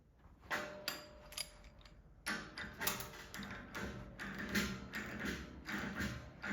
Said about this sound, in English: Line up anvil bolt and tighten to peen over the new rivet.